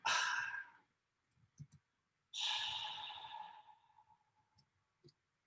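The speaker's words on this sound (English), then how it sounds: "And then this is a breath, me just going." A breath sound made by a person for use in a music track: two close, breathy exhales or sighs, the first short and the second longer and tapering, separated by soft clicks and small mouth noises.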